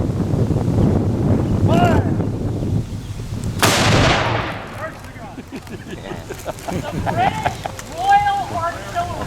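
A Royal Artillery cannon fires one loud, sharp blast around the middle, with a long rumbling decay. Wind buffets the microphone throughout, and people talk nearby before and after the shot.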